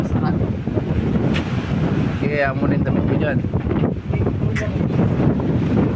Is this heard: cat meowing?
no